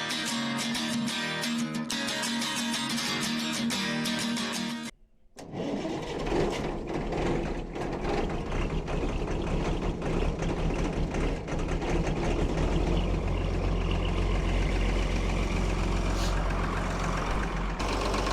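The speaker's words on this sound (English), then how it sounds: "We're gonna fire this thing up, get that mower behind it spinning, warm the oils up in the gearboxes and the cutter bar in it" Hesston 1372 mower engine running steadily and loud with the cutter bar spinning and gearboxes warming, a continuous mechanical drone after a brief cutoff near the start.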